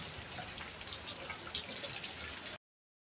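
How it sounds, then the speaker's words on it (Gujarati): Tap water runs into containers being filled at home, a steady soft gushing splash with faint dripping, heard alone until it cuts off abruptly near the end. "હેમાંસીબેને બધું પાણી ભરી લીધું"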